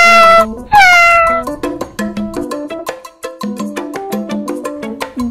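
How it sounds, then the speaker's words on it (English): A cat meows repeatedly in a clear, close sequence, two long drawn-out cries followed by a rapid run of short meows, alone without talk. "cat."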